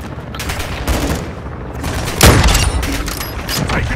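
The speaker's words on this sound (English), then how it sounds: "Taking effective fire!" Heavy gunfire from the video game Call of Duty: Modern Warfare II, with sustained automatic bursts and a loud blast near the middle, dense and continuous throughout.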